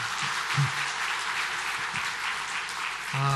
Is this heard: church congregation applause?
yes